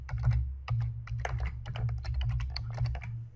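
Rapid, steady typing on a computer keyboard, close and clear, with a continuous patter of key clicks over a low electrical hum and no speech.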